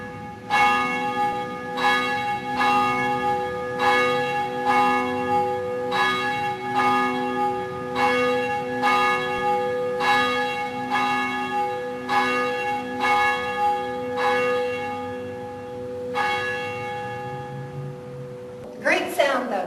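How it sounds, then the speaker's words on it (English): Church bell at St. John Lutheran Church in Richmond swung by hand, ringing loud and close with evenly spaced strikes about every second, rich sustained hum between strokes, ending with a clank and faint talk at the close. "Great sound, though, to this bell."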